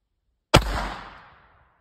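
A single sharp report of a .22 LR hollow point round fired through a chronograph, one loud bang with a short decaying tail, alone with no talk.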